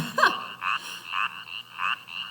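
Boreal chorus frogs calling, a series of about four rising, rattling trills repeated at a steady pace, close and clear over a quiet background.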